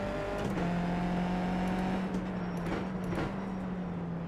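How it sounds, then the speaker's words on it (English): Race car in iRacing winding through gears with a steady buzzing engine note, drops in pitch marking a couple of downshifts before a corner, fairly close and alone without voices. "I'll get around these corners and then I'll give it a couple downshifts before that next corner"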